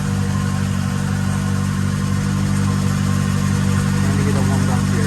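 A Honda Integra GSR with a B18C1 engine, a salvage car being street tuned, idles steadily while warming up, a close, loud, even rumble with a constant low throb and no revving.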